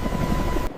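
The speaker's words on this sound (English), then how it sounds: "The first Mi-26 arrives, its thunderous rotors announcing the beginning of history." A Mil Mi-26 heavy-lift helicopter's rotors give a loud, continuous throbbing drone that cuts off abruptly near the end.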